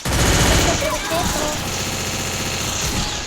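Rapid bursts of video game gunfire crackle loudly and close for a few seconds. The shots blend with engine-like rumble and game effects, and there is no talking.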